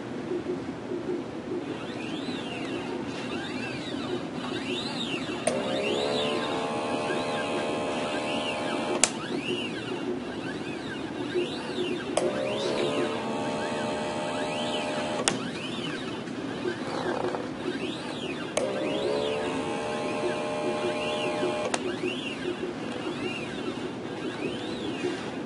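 A Dobot M1 robot arm runs a pick-and-place program, its servo motors whining in repeated rising and falling sweeps with short buzzing bursts between moves, over a steady hum of room noise.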